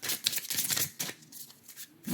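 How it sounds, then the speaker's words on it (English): Tarot cards are shuffled by hand in quick, papery bursts of riffling and sliding, close up and uneven in rhythm. "Shuffling also helps me hear better."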